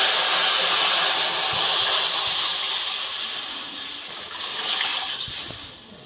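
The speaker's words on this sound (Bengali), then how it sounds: "কড়াইতে জল দিয়ে দিলাম" Water poured into a hot wok while cooking mung dal hisses and sizzles steadily, loud at first and slowly fading, with faint splashing and no speech.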